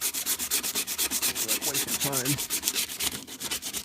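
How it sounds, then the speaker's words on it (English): 100 grit sandpaper rasps rhythmically across a Durango's car body in quick, even back-and-forth strokes, close and steady, with a brief word spoken over it. "I'm just doing some sanding here."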